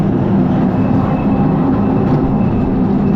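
A Disneyland Paris ride train brakes, a loud, steady low rumble and roar of wheels and brakes that carries on evenly for about three seconds with no talk.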